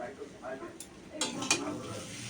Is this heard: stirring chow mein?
yes